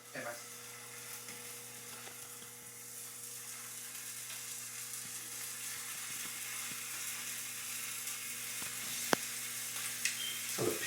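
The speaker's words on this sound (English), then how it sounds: "So after they're all floured up, I just cook them in a skillet." Floured chicken frying in olive oil in a skillet, a faint steady sizzle with a low constant hum beneath and a few light clicks.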